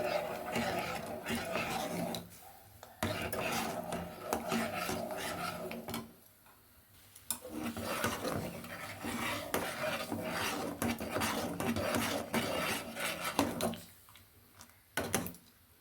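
Ragi flour paste being stirred continuously into boiling water for ragi ambali, a steady rasping, scraping churn of a spoon against the pot that runs close and loud with brief pauses, under someone speaking in Kannada.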